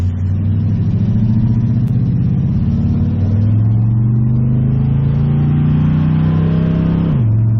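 A 1969 Ford Mustang engine revs steadily and loudly, its pitch climbing slowly as the slipping transmission lets the revs rise, then dropping sharply near the end. No voices.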